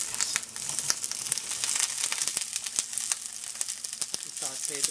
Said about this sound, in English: Saute this a little bit.